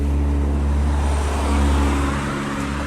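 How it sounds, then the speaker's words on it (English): A car drives past on an outdoor road: a steady, fairly loud low engine and tyre rumble that swells slightly midway and then eases, with no talking. "there's a car going by me"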